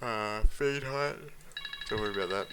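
A phone rings with a steady high electronic tone during a software tutorial, partly masked by someone speaking over it.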